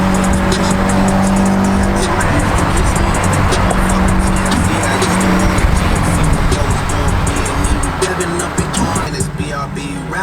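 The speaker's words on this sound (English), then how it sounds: "We gotta take it for a drive." An 8th-gen Honda Civic Si on a new aggressive wide wheel and tight-fitting tire setup drives along, its engine and road roar loud and steady throughout, with some voices mixed in.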